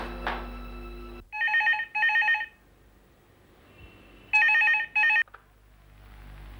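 A telephone rings in two double bursts of electronic trilling, each pair of short rings separated by a pause, clear and moderately close in an otherwise quiet room.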